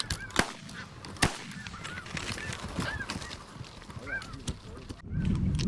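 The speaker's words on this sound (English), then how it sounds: "We got 35 birds total, dozen teal and the rest snow geese" Snow geese honking repeatedly during a waterfowl hunt in rainy Canada, several calls overlapping at mid distance amid wind and rain noise, with a couple of sharp bangs and a rising rumble near the end.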